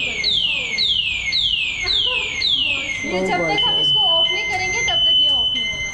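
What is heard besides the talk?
electric scooter anti-theft alarm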